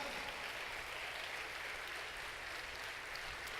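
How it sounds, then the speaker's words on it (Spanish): Steady applause fills a church sermon, a dense even patter of clapping that sounds fairly distant and soft, with no talking over it. "Yo creo que eso merece un aplauso para el Espíritu Santo, para nuestro Padre Jehová."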